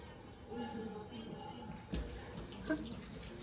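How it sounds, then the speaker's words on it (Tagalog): Tap water runs steadily into a sink while a child's hands are washed, a broad continuous splash with a couple of sharper knocks near the end, fairly close, with no one talking. "Oh, hugas ng kamay."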